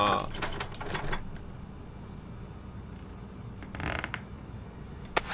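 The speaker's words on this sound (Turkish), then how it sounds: "Anahtarla deniyorum ve açılmıyor" A key tried in a locked door in the Hello Neighbor game, giving faint metallic rattles, creaks and clicks. The sounds come in short bursts at the start and again near the end over a quiet background.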